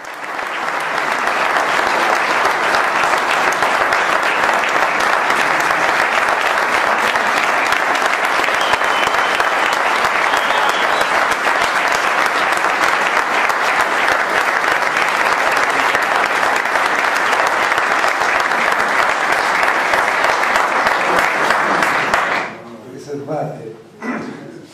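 Loud, dense crowd applause fills a political rally at Villafranca Padovana and holds steady for about twenty seconds, then cuts off abruptly into quieter room sound.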